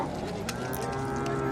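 At a busy livestock market, a cow moos in one sustained low call, near and prominent above the constant background bustle.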